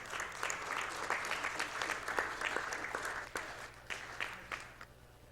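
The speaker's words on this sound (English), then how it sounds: "And one more round of applause for our runner" A crowd at a live speedrunning marathon event applauds for a runner who has just finished Magical Pop'n, with sustained clapping that gradually thins out near the end.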